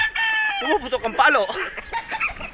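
Gamecock roosters cluck and squawk close by in short, uneven bursts over about two seconds, with a voice speaking among them.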